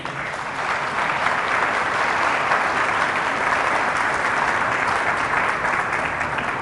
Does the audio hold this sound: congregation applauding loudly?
yes